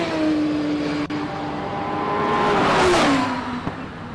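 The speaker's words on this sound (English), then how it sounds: "Let's see what Andre Bezuidenhout could do in this magnificent Gould, which is an incredibly special car." A Gould single-seater race car climbs a hillclimb course at Simola, its engine a loud, steady whine with rising and falling pitch through gear changes, swelling as it passes close by, with no voices.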